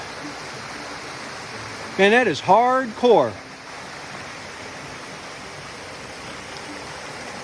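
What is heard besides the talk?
waterfall on the Appalachian Trail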